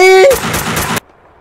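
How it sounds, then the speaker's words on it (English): Gunfire from the video game Max Payne 2 bursts loudly and sharply, a rapid cluster of shots lasting about a second that cuts off abruptly into near silence, with a brief tonal sound just before it. "Who was shooting me, man?"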